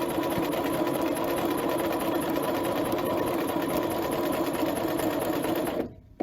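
A sewing machine stitches a patch pocket in one continuous fast, buzzing run of needle strokes, loud and close. It stops abruptly near the end.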